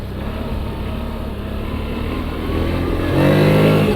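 A 2024 CFMOTO 1000 GEN3 petrol engine pulling steadily while riding a trial track, a close, continuous drone that climbs sharply in revs near the end, with no talking.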